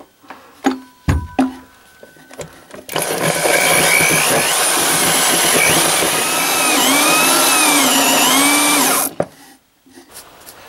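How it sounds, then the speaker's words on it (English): A drill with a hole saw bores through a deck's wooden ledger plate toward the rim joist. A few knocks come first, then the loud, steady grinding whine of the cut runs about six seconds and stops abruptly. "I'm going to drill through the ledger plate with my hole saw from the inside"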